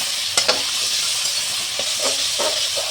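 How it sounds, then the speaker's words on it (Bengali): Pieces of fish fat, rubbed with turmeric and salt and cut small, sizzle steadily in a hot pan, a dense close hiss with a few brief clinks and stirring scrapes, no voices. "এখন আমি মাছের তেলটা দিয়ে দেব।"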